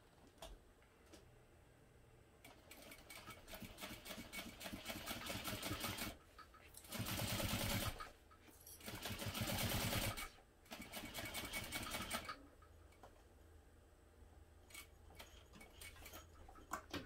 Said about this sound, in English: we're going to top stitch this using a 1/8 inch